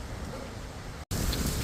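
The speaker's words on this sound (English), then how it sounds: "Getting some good rain right now." Steady heavy rain pours down on a roofing job site in hot weather, a dense continuous hiss of drops striking surfaces nearby, broken by one very brief dropout before the downpour resumes at full strength.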